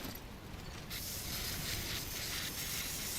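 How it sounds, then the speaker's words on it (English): Spray can sprayed onto a damaged cargo container in the video game Death Stranding. A steady, broad hiss starts near the one-second mark and continues loudly to the end. "We need the fart spray of safety."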